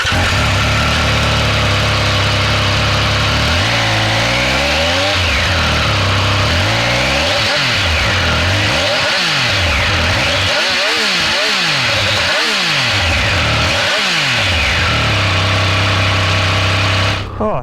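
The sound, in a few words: Triumph Speed Triple 1200 RR motorcycle engine with standard silencer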